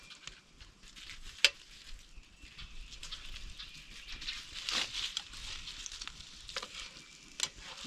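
Food sizzles and fries on a small GoHawk wood stove, a soft steady crackle with a few sharper pops, fairly quiet and close.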